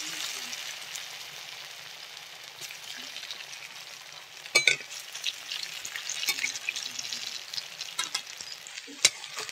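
Malabar spinach fries steadily in hot oil, giving an even, crackling sizzle with occasional sharper pops and a faint voice in the background.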